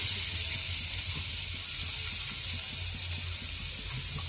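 Chopped onions fry in hot oil in a pan with a dense, even sizzle that holds at the same level throughout, with no talking.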